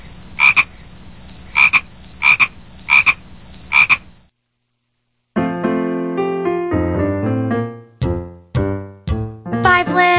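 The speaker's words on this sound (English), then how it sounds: "5 little speckled frogs" Frog croaks in a children's counting song about five little speckled frogs: a run of five close, loud, evenly spaced ribbits, a short silence, then bright tinkling melodic notes.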